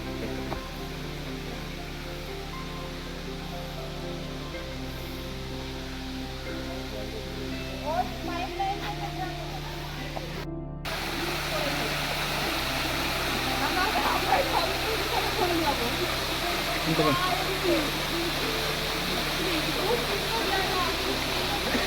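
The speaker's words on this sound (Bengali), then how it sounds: "একটা ঝর্ণার জলের আওয়াজ শোনা যাচ্ছে।" A waterfall at Ghatsila gives a steady broadband rush of flowing water that swells noticeably louder halfway through and holds there, with a faint low hum underneath.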